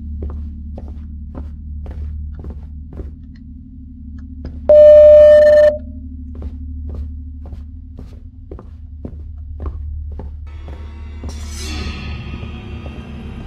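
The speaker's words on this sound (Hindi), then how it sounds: "ये टेलीफोन के साथ खेल रहे हो क्या?" A landline telephone in the Home Sweet Home horror video game gives a single clear ringing or tone burst amid slow, regular footsteps, followed by a noisier burst near the end; no one speaks.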